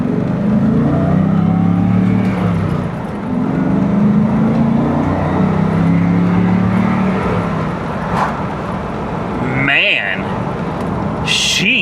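A Ford Mustang Cobra with a new clutch, 11k miles and past flood damage, engine droning steadily under way on its first drive, with a brief whoosh of passing traffic near the end and voices over it.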